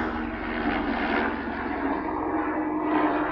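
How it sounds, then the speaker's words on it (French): Helicopters fly overhead outdoors, a steady droning engine hum with a throbbing rotor pulse that swells and eases slightly while staying at a moderate distance. "là j'ai les hélicoptères, bientôt je vais avoir les canadaires"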